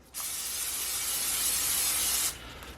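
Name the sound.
eggs frying in a pan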